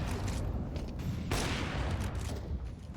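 Grenade blasts in the Counter-Strike video game: a barrage of muffled booms and crackling bursts layered over continuous match noise, with one bright, heavy detonation near the middle.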